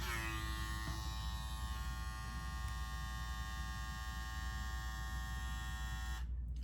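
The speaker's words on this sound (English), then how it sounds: "Quiet clipper." An Andis Phenom electric hair clipper runs steadily nearby with a constant buzzing hum, then switches off abruptly at the end.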